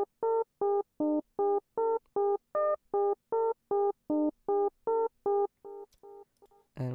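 Soft synth note with velocity turned fully down, tone close to a pure sine, repeated as short even pulses in a steady rhythm, about sixteen hits, then fading, alone without voices.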